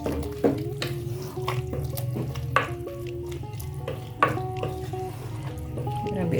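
Water poured into a pot of okra fish stew during Ghanaian home cooking, a steady close splashing and trickling with a few sharp knocks and clinks of utensils against the pot.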